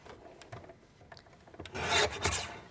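Card stock is trimmed on a paper trimmer: a few soft taps and light rubs lead into a louder, rasping slide of the blade through the card, close and brief.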